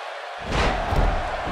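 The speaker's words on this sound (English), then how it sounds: "The crowd on hand tonight, clearly fired up for this match" Arena crowd in the WWE 2K16 wrestling video game roaring up suddenly after a brief silence, a loud, sustained wash of cheering with a few dull thuds mixed in.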